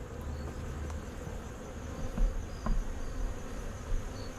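Steady, low buzzing of many honey bees close by during a mid-October hive inspection, a constant droning hum with a few faint knocks and rustles underneath.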